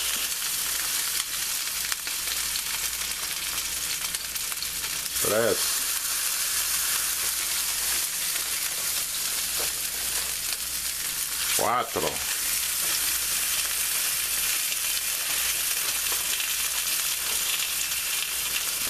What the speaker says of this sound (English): now it's time to start adding our sausages